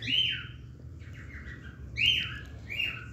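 Pet songbirds kept in a cage beside a jasmine plant give several bright, close chirps in short bursts, with pauses and a low background hum between the calls.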